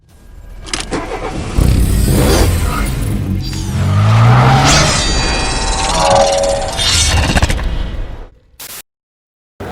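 A 2008 Mitsubishi Lancer with 182,000 km on the clock, its engine loud and close as it revs and moves, tires squealing briefly, then cutting off abruptly near the end.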